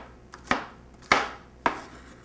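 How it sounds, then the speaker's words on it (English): Knife chopping previously cut vegetable sticks on a board, three sharp, close, evenly spaced chops with a faint lighter tap before the first, no speech. "take the sticks that we previously cut for our rolls and just give it a quick chop"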